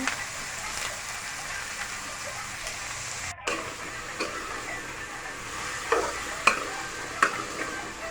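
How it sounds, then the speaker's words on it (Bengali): Chopped vegetables for a squash fry stirred in a hot pan, producing a continuous sizzling crackle with scattered spoon scrapes and clinks, plus a brief cut in the sound partway through. "সবজিগুলো দিয়ে দিব"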